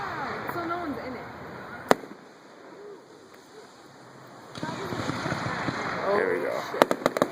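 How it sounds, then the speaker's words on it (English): Fireworks at a St. Mary's feast display bursting in a sharp crack, then a rapid volley of several bangs near the end, against steady background noise, with people talking throughout. "Going through the friggin' fireworks."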